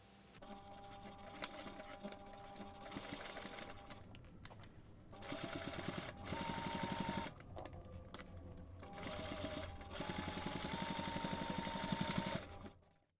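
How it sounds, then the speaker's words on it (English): A sewing machine stitches close to the edge of a bag lining with a zipper pocket, running in steady bursts of rapid whirring needle strokes broken by short pauses, close and alone. "take this to the machine and stitch close to the edge"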